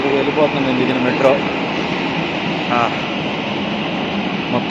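A Delhi Metro train pulls away from Green Park station with a steady rolling rumble and hiss under a busy platform, with someone talking over it.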